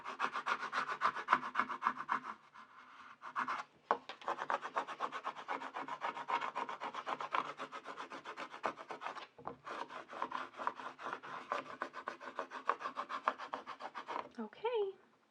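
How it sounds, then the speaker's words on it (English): A scraper tool rubs firmly back and forth over cut vinyl cursive letters on transfer tape, giving rapid rhythmic rasping strokes, close and continuous with a couple of brief pauses. "take my scraper tool and press even more"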